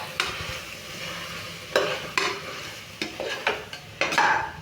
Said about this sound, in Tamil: வதக்குங்க. நல்லா கிண்டுங்க.